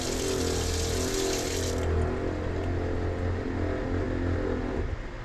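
Water runs steadily from a tap aboard a boat while the onboard water pump hums underneath, a continuous close flow with a low motor drone and no talking.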